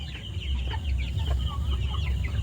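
Tiger chicken chicks on a poultry farm, soft clucks and peeps scattered over a low steady farm hum, several birds calling close by without talk.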